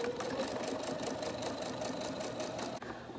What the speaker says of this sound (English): Run my back stitch.